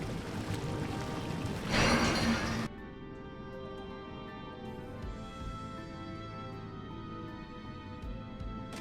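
A short, loud watery splash rushes up in the video game Final Fantasy XIV, then cuts off abruptly into sustained tonal game music.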